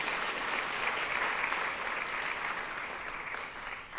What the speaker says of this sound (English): If we can have one more round of applause for all of our morning's speakers